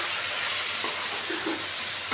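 Green chillies, onion and tomato fry in a tempering of spices for pesarapappu tomato dal, giving a close, constant oily sizzle with a couple of soft stirring taps, no voices present.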